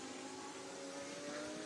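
A race car pulls away from the pits at the Estoril 12-hour endurance race, its engine note droning steadily and rising slightly at moderate distance, faint under ambient track noise.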